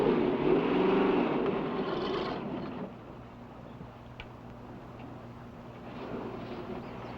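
A car being driven out of the way on a forest road, its engine loud and close for a couple of seconds before dropping to a low, distant rumble.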